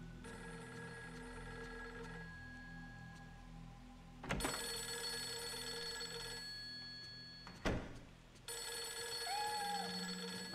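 A telephone rings inside the Project Zero III horror video game, a steady electronic ring that runs continuously with two sharp interruptions, heard alone without talk over it.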